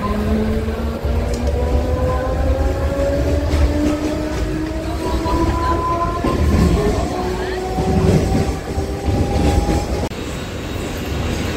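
A Badlapur fast local train runs steadily in Mumbai, its wheels and carriages giving a constant rumble with rising tonal whines from the motors, heard from inside the moving train.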